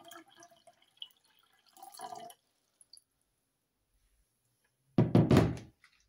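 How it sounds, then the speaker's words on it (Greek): Water poured into a glass vase holding fresh yellow, pink and red tulips in a cozy home corner: a few soft trickling, dripping bursts, then a louder close splashing pour near the end, with no voices. "Και τελειώνουμε με αυτή τη γωνίτσα, με λίγο νεράκι στο βάζο."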